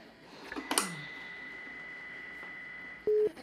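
A telephone busy signal comes through as a short steady tone burst near the end, after a brief clatter of handling noise, with a faint constant hum underneath; no one speaks.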